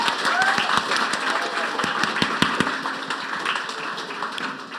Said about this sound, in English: round of applause for all our competitors so far